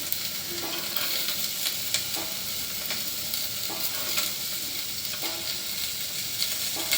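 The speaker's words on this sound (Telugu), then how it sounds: "కరివేపాకు బాగా కొంచెం వేగనివ్వండి." Beans, carrot, radish and curry leaves frying and being stirred in a pressure cooker pot for sambar: a steady close sizzle with soft scraping stir strokes every second or so, no voices.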